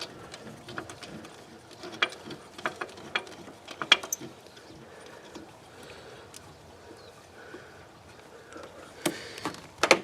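A ratchet clicks in short, uneven bursts while tightening the tensioner bolt during a serpentine belt and pulley replacement on a Duramax diesel, with scattered metallic knocks and handling noises nearby.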